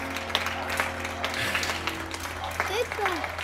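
Scattered applause for healthcare workers drifts in from neighbours during the evening pandemic ritual, distant and echoing, with a low steady hum and a few faint voices underneath.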